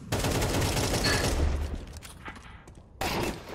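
Close, loud rifle fire from a Counter-Strike 2 match sounds as a rapid burst of shots, then a short lull before a sudden single sharp report near the end.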